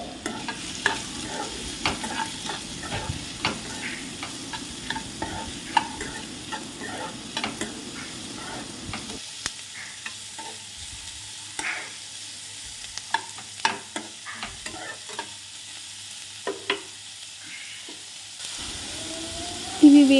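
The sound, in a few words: chicken and spices frying in a pan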